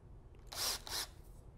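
A cordless drill set to maximum in hammer mode bores into concrete, giving two brief, loud rattling bursts close by.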